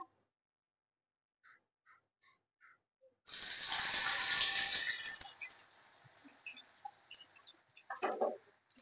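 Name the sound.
moong dal frying in hot oil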